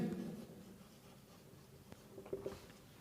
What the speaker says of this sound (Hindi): तो सिंपल सेंटेंस का फॉर्मूला लिखते हैं।